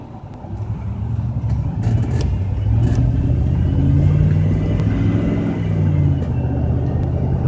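A 2003 GMC Envoy with a 5.3 engine pulls away, its low engine rumble rising and holding steady as the vehicle gets moving, heard from inside the cabin without talk.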